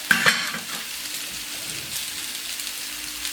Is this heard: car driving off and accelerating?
no